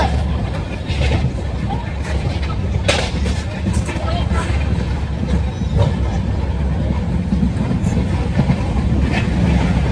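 Train on the Latur to Pune line rumbling steadily throughout, with a low continuous roar and faint rattling, heard from inside a carriage.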